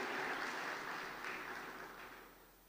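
A church congregation claps together at a worship service, a dense and fairly loud wash of applause that holds steady and then slowly fades toward the end, with no voices over it.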